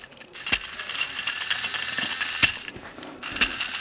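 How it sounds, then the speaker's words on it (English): A Trackmaster Shooting Star toy train engine's small motor whirring steadily, close by, with a high buzzing gear whine punctuated by a few sharp clicks and clacks of the plastic mechanism. "Let's see if this motor works."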